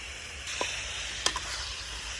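Garlic goes into pork belly frying in a pan, with a steady close sizzle and crackle and a few sharp pops and spits of oil over it; no speech.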